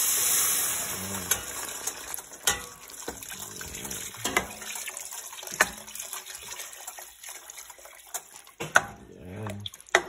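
Water pours into a pot of salmon miso sinigang, a splashing gurgle that starts loud and fades into scattered drips and clinks close by, with a faint voice in the background.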